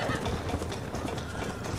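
A horse gallops in Red Dead Redemption on PS3, its hooves beating a quick, continuous clip-clop rhythm over steady game ambience.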